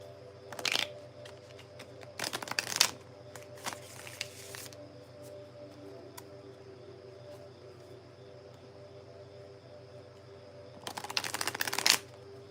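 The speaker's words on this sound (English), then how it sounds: "Let me shuffle a couple more times." Tarot cards being shuffled in a few short papery bursts near the start, again around the middle, and at the end, with a steady low hum in between and no talking.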